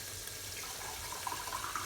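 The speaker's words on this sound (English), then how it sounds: "pour my water into my mug" Hot boiling water pours into a mug in a home kitchen, a quiet steady stream of liquid splashing close by with no talk.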